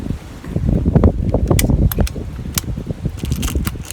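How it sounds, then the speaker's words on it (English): Strong gusty wind buffets the microphone with rumbling, uneven low roars, loud and close throughout. "it is very windy today."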